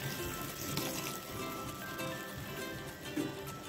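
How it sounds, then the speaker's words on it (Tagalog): Water poured into a cooking pot holding carrots, a steady splashing, trickling flow that runs the whole time at moderate loudness. "so lagyan natin ng tubig"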